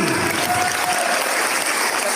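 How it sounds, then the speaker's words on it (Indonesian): A large audience at an Indonesian religious talk breaks into loud, dense applause. The clapping stays even and sustained throughout, with faint crowd voices underneath. "Tepuk tangan."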